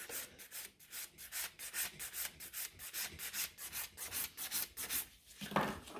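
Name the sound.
nail file filing sides of gel nails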